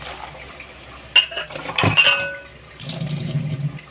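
Chopped chayote, potato, carrot and sweet potato go into one container with clinks and knocks of dishes and utensils, a louder clatter in the middle and a running-water wash near the end.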